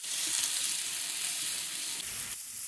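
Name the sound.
onions lightly roasting in ghee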